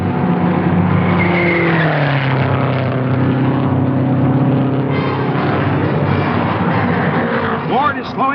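1960 Indy 500 race cars roaring through the turns, a loud continuous engine blare with shifting pitch as cars pass, dense and unbroken, with a commentator talking over it.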